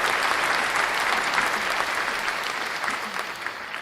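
Sustained applause from a small group answering a rumor announcement during a crypto market livestream, a dense, steady patter of claps that carries on evenly for the whole span and fades slightly toward the end.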